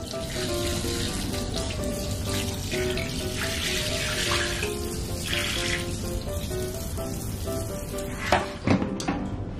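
Steady running water from a tap while two large pet snakes are bathed, loud and continuous, with a couple of splashy bursts near the end.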